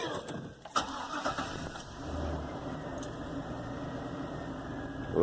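A 2000 GMC Sierra pickup with a 4.8L V8 and a crank-no-start fault cranks briefly, then catches and settles into a steady idle close to the microphone, with a door thud at the start.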